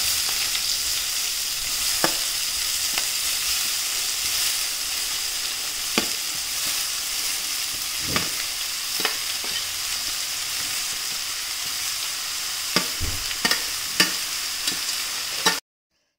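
Chopped taro stem being stir-fried for thoran in a pan, a steady loud sizzle broken by sharp scraping stirs of a spatula at irregular intervals.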